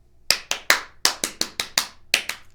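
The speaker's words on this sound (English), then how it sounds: "And so how I do it is I clap," About ten sharp hand claps in an uneven, deliberate rhythm, performed as part of an Elevenfold Seal ritual. They are close and crisp, in a quiet room with no talking.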